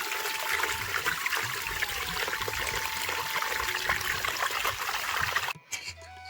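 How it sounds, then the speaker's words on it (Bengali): Water running from a yard hand-pump tap into bottles and a bucket, a steady splashing, trickling stream close by that stops abruptly near the end, leaving only a few faint drips. "এখন কলপাড়ে এসে করে বোতলগুলো জল ভরে বালতিটাতে নিচ্ছি।"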